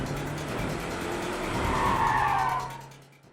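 During a tense car chase, a car's tires skid and squeal loudly over the roaring engine for a few seconds, then the sound drops away abruptly.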